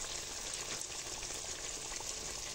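Potatoes frying in a pan as ginger paste goes in, a steady close hiss and crackle of sizzling oil, fairly quiet and unbroken, with no talk.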